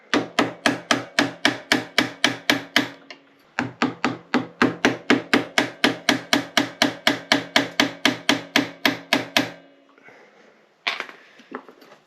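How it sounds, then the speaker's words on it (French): Steady, rapid, evenly spaced ratcheting clicks from a wrench tightening the compression nut on an SMX 250 motorcycle suspension, close and loud, pausing briefly once before a second run of turns. "je vais resserrer un peu l'écrou de compression"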